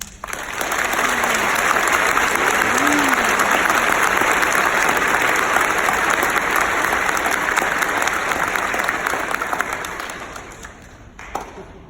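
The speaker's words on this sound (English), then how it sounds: "Let's give her another round of applause." Sustained audience applause after an alumni speaker's speech at the PAVCS 2019 event, a loud, dense roar of clapping that swells quickly, holds steady, then tapers off near the end with a brief whoop.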